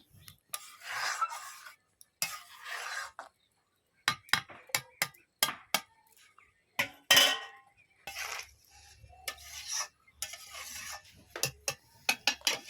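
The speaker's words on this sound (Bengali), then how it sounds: "ধনিয়া পাতা দিয়ে আমি কিছুক্ষণ নাড়িয়ে নিলাম" Cauliflower curry with coriander leaves stirred in a pan, a spoon scraping and clinking in repeated short strokes with brief pauses, close and clear with no talk.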